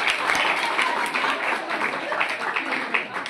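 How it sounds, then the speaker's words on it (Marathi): Crowd applause at a Gauri Ganpati festival aarti gathering in Dahiwadi, Satara, Maharashtra, honouring the aarti winners: dense, steady clapping from many hands, close and fairly loud, with some voices mixed in throughout. "त्यांच्यासाठी जोरदार टाळ्या पाहिजे"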